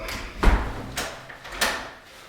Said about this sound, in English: open that door up.